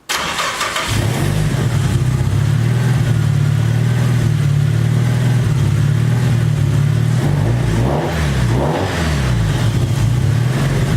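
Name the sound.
Nissan S14 SR20 engine running on a dyno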